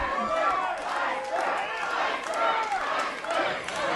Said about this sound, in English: The crowd chanting Iceberg at him.